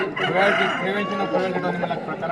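A rooster crows once in a long, strained call at a rural cockfight venue, fairly close and loud, with crowd murmur underneath.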